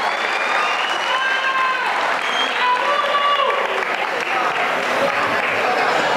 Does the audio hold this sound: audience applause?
yes